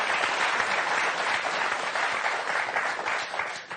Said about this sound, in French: on va vous applaudir très fort